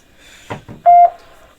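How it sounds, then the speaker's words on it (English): A radio repeater sends its courtesy beep: one short, loud, steady tone that follows a couple of brief noisy bursts, with no one speaking. "There was a courtesy beep and everything else."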